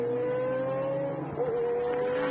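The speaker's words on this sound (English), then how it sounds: "V12 sounds around this circuit, reminding us of the great Jaguar victories at Le Mans." Jaguar V12 race car at the Montjuic circuit, a loud sustained high engine note holding steady, briefly dipping as the revs drop on a gear change and then climbing again.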